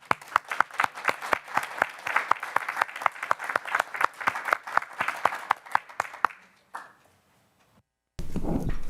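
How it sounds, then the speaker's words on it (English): Round of applause at a school board meeting: scattered hand claps from a small group in a room, steady for several seconds, then fading out into near silence before room noise returns. "a nice round of applause"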